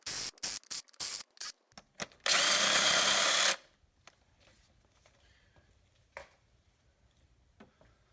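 Power tool loosening valve cover bolts with an 8mm socket on a Chevy Trax / Cruze / Buick Encore engine, several short loud bursts and then one longer sustained whir, followed by faint clinks and handling noises.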